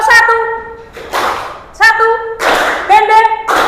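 A classroom of students claps in short rhythmic bursts on the teacher's cue, several quick claps separated by pauses, with a voice speaking between the bursts.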